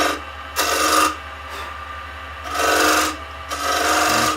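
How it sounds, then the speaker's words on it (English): A gouge on a wood lathe cuts coves into spinning wood in repeated rasping, hissing passes, each lasting about half a second, over a low, steady motor hum. "my gouge is doing the work for me"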